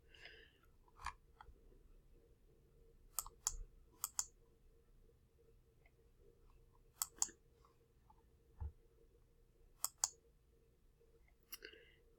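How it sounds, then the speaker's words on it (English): Mouse clicks on a file upload button, a few sharp, close, quiet clicks in pairs and singles spread over a faint background hum, no talking. "I'm going to click on the file upload"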